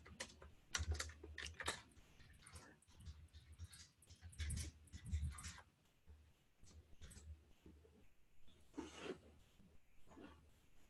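Rapid typing on a computer keyboard entering a message into a chat, with irregular bursts of close, crisp key clicks and short pauses between them.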